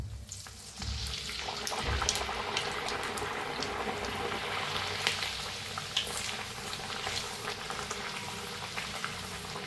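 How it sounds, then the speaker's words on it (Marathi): Carrot puris deep-frying in hot oil give a soft, continuous bubbling sizzle with scattered crackles, fairly faint and steady throughout. "दोन्ही साईडनी छान तळून घ्यायचं."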